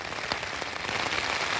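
Rain patters steadily on a Stormgrotta 2P tent in blustery morning weather, a dense hiss of drops with a few sharper taps against the fabric, close and continuous with no voices.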